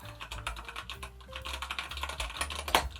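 Quick, close typing on a budget custom mechanical keyboard, less sharp-sounding than red switches, a dense run of clicky keystrokes with a louder clack near the end.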